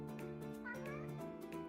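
A house cat meows in a quiet indoor room, a series of drawn-out, wavering calls that rise and fall over a faint steady background.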